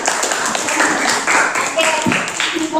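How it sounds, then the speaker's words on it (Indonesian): Students clap together in a junior high school classroom in Bogor, a lively burst of many hands close by with a few voices mixed in. "tepuk tangan sekali lagi dong buat kalian"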